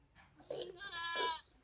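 A goat on a goat farm in Nagaur gives a single clear, wavering bleat lasting about a second, close and fairly quiet against a still background.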